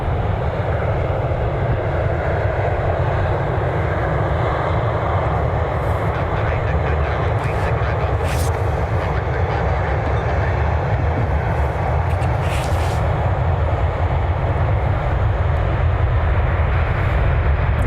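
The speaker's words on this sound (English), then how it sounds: "Back-to-back 737 action for departure today." A Boeing 737 jet departs from a runway at Cleveland, a steady loud broadband engine roar sustained throughout, with faint higher whines rising and falling above it.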